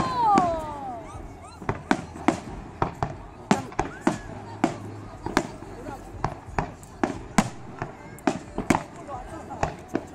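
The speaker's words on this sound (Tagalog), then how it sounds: "Ang tagal ng fireworks po nila." A fireworks display sends out a long series of sharp pops and bangs at an irregular, steady pace, moderately distant, while people nearby talk and cheer over them.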